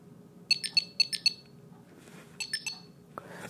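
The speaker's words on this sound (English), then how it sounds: "it's just beeping here, but it's not beeping on my phone." A Tile Mate tracker emits rhythmic electronic chirps, two quick bursts of triple beeps followed after a pause by another group, moderately faint over a low room hum.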